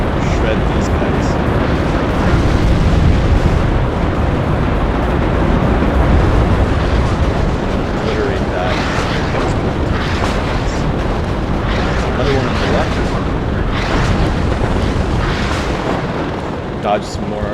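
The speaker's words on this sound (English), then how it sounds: "Dodge some more artillery" Artillery explosions in the video game Warno roll in as a dense, loud, continuous rumble of booms and blasts, thick and steady throughout, with a voice talking over them.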